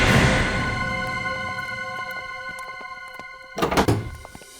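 A door opens with a close rattling clunk at the start and a louder thumping knock near the end, heard over a sustained tonal music bed from a crime drama, with no voices.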